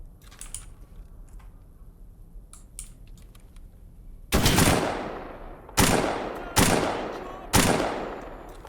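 SVD sniper rifle fired in the video game Escape From Pripyat: four loud, sharp single shots with echoing tails, spaced about a second apart, following a stretch of quiet keyboard and mouse clicking.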